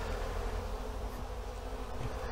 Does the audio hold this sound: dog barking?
no